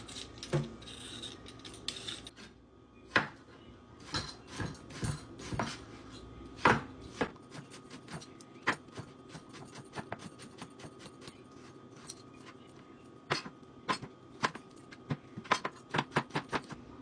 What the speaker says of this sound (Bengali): আমি এদিক দিয়ে খিরাইটা আর টমাটো কেটে নেই সালাতের জন্য